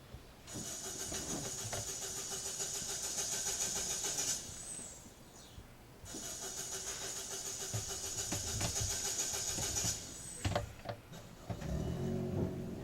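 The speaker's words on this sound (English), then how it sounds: "he eased himself into the driver's seat and started the engine" A car engine is started twice, each time a sustained whirring drone that runs for several seconds and then cuts off, with a few clunks and knocks after the second run. The sound is moderately loud and no one talks.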